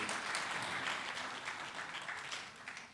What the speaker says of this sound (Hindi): इन सारे बच्चों के लिए बहुत ज़ोरदार तालियां होनी चाहिए।